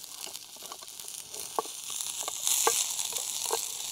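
Onion sizzling in oil in a pan at a rainy night campsite, a steady crackling fry with a few scraping stirs poking through, close and fairly loud.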